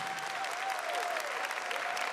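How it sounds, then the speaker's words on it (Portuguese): A crowd at a Catholic religious gathering claps steadily in a dense, even wash of applause, with a faint sustained tone running beneath it. "Vamos aplaudir a missão da Canção Nova em São José dos Campos?"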